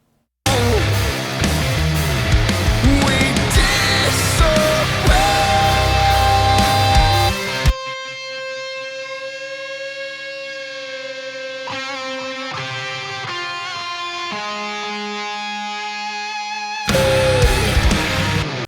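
A driving rock mix with distorted electric guitar gives way to a sustained, singing lead guitar line with long held feedback tones, then the full band returns.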